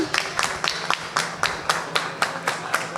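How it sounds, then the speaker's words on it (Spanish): Small audience clapping for a prize winner at a science talk event in Manta, with distinct, evenly spaced claps about four per second, fairly close and steady, no talk. "Un aplauso, por favor, para Tommy."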